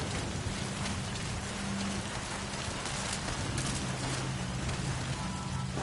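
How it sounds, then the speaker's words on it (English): Steady rainfall in the video game Metal Gear Solid V: Phantom Pain, a dense, continuous hiss with a low rumbling undertone and faint tonal hums, sounding close and even throughout with no talking. "Sound of rainfall should help to mask your footsteps."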